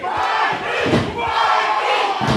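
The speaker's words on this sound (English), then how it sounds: "Listen to this crowd, TJ. God, it is energetic here in Simcoe." A packed, energetic wrestling crowd in Simcoe roars and shouts continuously, a loud, dense wash of voices that swells and dips over a couple of seconds.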